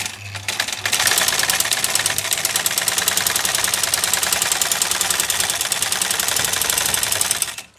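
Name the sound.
black sewing machine stitching thick fabric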